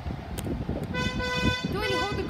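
Car horns honking during a birthday drive-by, a long steady toot joined by a second wavering horn, loud over background chatter and voices.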